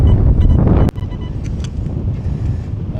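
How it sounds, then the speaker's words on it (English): Strong wind gusting across a beach in Ayrshire during metal detecting, roaring loudly into the microphone as a continuous rough buffeting that drops briefly for an instant before surging back. "The wind's brutal."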